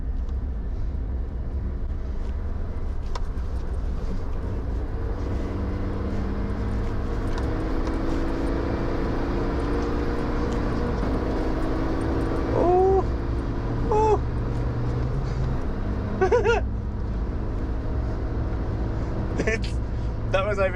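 A 2019 Suzuki Jimny at high speed on an open road, heard from inside as a steady engine drone and heavy road and wind rumble throughout, with a few brief higher tones near the end.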